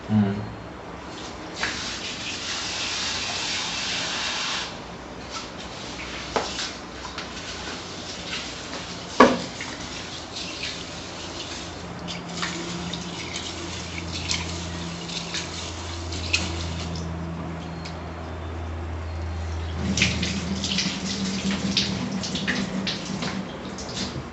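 Running water washes soaked black urad dal in a bowl for a long stretch, with swishing and intermittent drips, close by and moderately loud.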